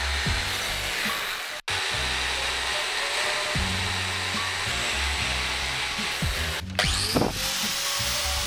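A power drill whirs steadily and loudly, grinding through metal, cutting out briefly twice before spinning back up.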